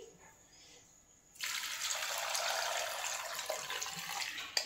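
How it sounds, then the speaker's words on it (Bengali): Water pours into a pressure cooker holding large potatoes, starting abruptly after a quiet moment and running as a steady, fairly loud gush until the end. "এই আলুগুলোকে আমি এর মধ্যে কুকারের মধ্যে দিয়ে দিলাম। দিয়ে আমি জল দিয়ে দিচ্ছি।"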